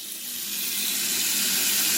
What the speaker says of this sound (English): So we'll start filling it up.